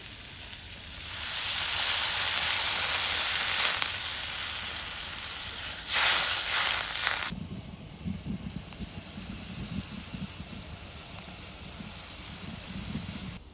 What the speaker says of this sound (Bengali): এখন আমি পোস্ত বাটা জলটা দিয়ে দেবো।